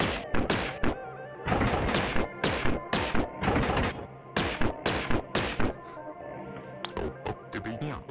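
Repeated cannon shots in the retro action game Gato Roboto, fired with an upgraded cannon module: punchy, thudding bursts come in quick clusters with brief pauses between volleys, fairly loud and without talk.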